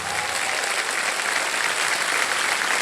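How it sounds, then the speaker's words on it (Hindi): Studio audience applause for a quiz-show contestant who has chosen to quit with his winnings, a dense, steady roar of many hands clapping at once that holds evenly loud throughout. "और तालियां बज जाए इनके लिए।"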